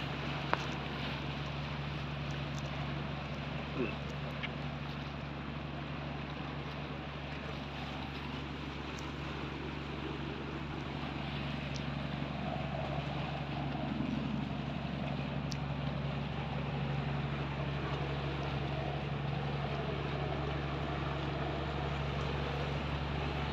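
Steady low engine drone of a bangka outrigger boat on open water at high tide, with wind and large waves washing around it, continuous and fairly even throughout.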